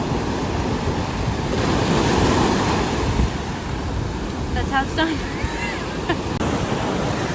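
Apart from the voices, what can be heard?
ocean waves on a Florida beach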